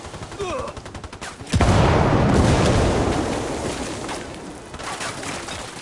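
A frag grenade in Ghost Recon Wildlands goes off with a sudden loud, close boom after scattered shots. The blast rumbles on for several seconds, with a voice in the mix.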